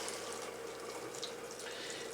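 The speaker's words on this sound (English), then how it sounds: "We're going to fill up this container" Water from a Coca-Cola bottle runs steadily into a container at a water purification system, a continuous close hiss of pouring and filling with no one speaking.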